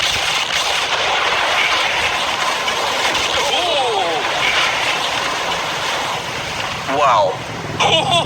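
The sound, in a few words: huge sea bomb explosion in a video game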